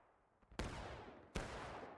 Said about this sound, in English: they did start finally shooting the cannons